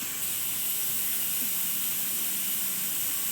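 A loud, continuous hiss of steam escapes under pressure from a pressure cooker whistle, holding steady throughout without a break.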